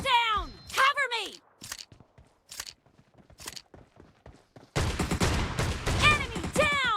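Shotgun blasts from an M1014 in a mobile shooter game, several sharp loud bursts spaced irregularly among voices and game chatter, with a dense burst of noise near the end.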